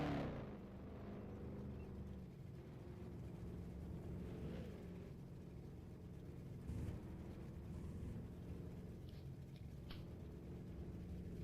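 A race car in a racing video game, the Cheerwine GP with the ROX mod, drones steadily as it drives toward victory lane, a continuous low engine hum that holds without pause, moderately loud.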